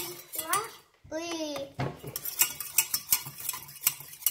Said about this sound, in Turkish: Karıştırıcıyla karıştır.